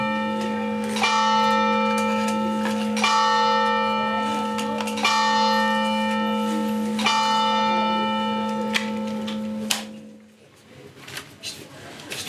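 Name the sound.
church bell ringing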